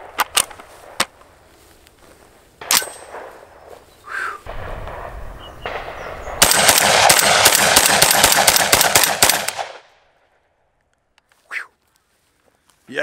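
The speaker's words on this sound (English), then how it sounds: "mag dump with the Webley." Webley & Scott shotgun emptied in a rapid-fire string, a few loud separate blasts first, then a dense burst of quick shots for a few seconds before silence, outdoors at a range.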